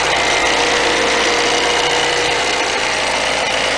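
A car with a 2.2 liter engine idles close by, a steady, even mechanical hum and rumble that holds unchanged throughout with no talking.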